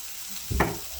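Spaghetti sauce with Impossible Burger meat stirred in a pan, giving a single brief sizzling swish of the spoon after a quiet moment.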